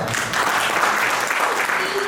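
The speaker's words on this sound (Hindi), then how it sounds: "परंतु कहीं ना कहीं तालियां कमजोर थी" Audience at a Hindi poetry recital claps in a steady, dense wash of applause that carries on throughout, with no clear voice above it.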